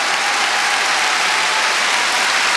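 A concert audience applauds at a 1973 gala, a loud, dense, continuous wall of clapping from a large hall crowd, with no voices over it.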